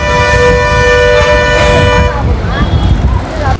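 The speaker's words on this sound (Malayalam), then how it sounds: "നിർത്താതെ ഹോണടിക്കുവാണല്ലോ." A loud, sustained bus horn blares nearby for about two seconds amid busy traffic noise near Srirangam temple in Tamil Nadu, then gives way to engine rumble and a few shorter honks.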